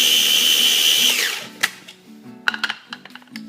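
Blender whirring through a spicy mango drink made with Sriracha, a steady high whine that winds down after about a second, followed by scattered clinks and light clatter.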